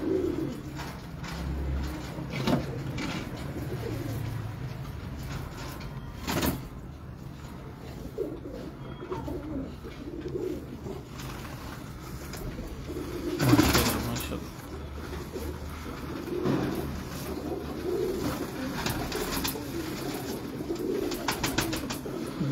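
Pigeon of French descent, bred from the Shah Parwaz line, cooing softly in low repeated murmurs close by through most of the stretch, with occasional handling noises and brief speech in the background.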